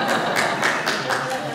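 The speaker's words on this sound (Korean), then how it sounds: "왜 박수를 치세요?" A church congregation clapping briefly during a sermon, a few quick rhythmic claps with voices murmuring beneath them.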